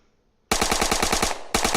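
Rapid automatic gunfire from a firearm in the VR game Weapon Master VR: a loud, close burst of evenly spaced shots after a brief silence, a short dip, then the firing resumes.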